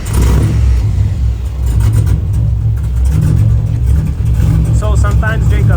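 An LS-swapped Nissan S14 with a custom straight-pipe exhaust runs loud and close, a deep rumbling idle with revs rising and falling, while people talk over it.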